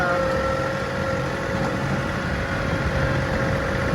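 Tractor driving in high gear across the back of a property, a steady low engine drone that stays even and continuous, close by and with no speech over it.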